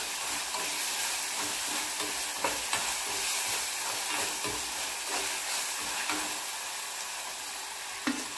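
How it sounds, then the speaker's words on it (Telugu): Ginger garlic paste frying with onions in a pan for a dried prawn and egg curry, a steady broadband sizzle with repeated scraping stirs at an even rhythm, close and continuous, with no talking. "ఇప్పుడు అల్లం వెల్లుల్లి పేస్ట్ వేసుకొని పచ్చివాసన పోయేంత వరకు కలుపుకోవాలి"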